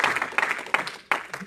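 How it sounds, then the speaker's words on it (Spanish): A church congregation at a Sunday school service applauds, the clapping rising and falling in several bursts over a short stretch. "Denle un aplauso al Señor"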